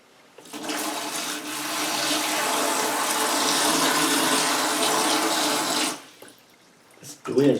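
Water gushes and splashes steadily for about five seconds from a homemade 2-inch PVC hand pump drawing from a black container, then cuts off abruptly, followed by brief handling noises.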